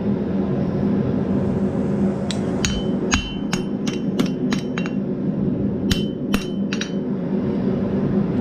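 A steel chisel is struck with a hammer on an anvil at a forge, giving a run of sharp, ringing metallic blows at an irregular pace over a constant loud roar of background noise.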